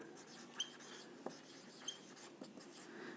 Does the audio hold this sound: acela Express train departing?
no